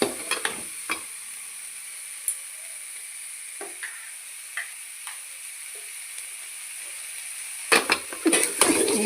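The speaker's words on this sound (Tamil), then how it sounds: "கறி மசாலா வந்தவுடனே இஞ்சி பூண்டு போட்டுட்டேன்." Ginger and garlic paste cook with curry masala in a pan for a goat trotter curry: a faint, steady sizzle broken by scattered light scrapes and taps of a spoon, with a busier burst of stirring near the end.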